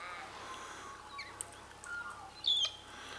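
Small birds gathered at a backyard feeder in Loch Sport give a few faint, scattered chirps and tweets over quiet outdoor background noise, with one slightly clearer call near the end.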